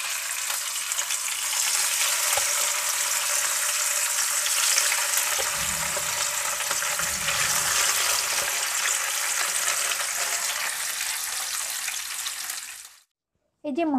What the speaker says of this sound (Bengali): এখানে আমি তেল গরম বসিয়েছি, এর মধ্যে আমি মাছগুলোকে একটা একটা করে ছেড়ে দিচ্ছি